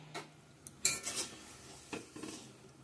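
A knife cutting pointed gourd (potol) on a board in a home kitchen, a few sparse soft taps and scrapes with quiet gaps between, faint and close.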